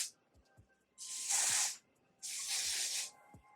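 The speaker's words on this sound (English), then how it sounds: "And then I'm just going to spray along my hairline again." Two short bursts of hair spray from an aerosol can, misted along the hairline during a glueless closure wig install, each hiss lasting under a second with a quiet pause between and faint handling clicks around them.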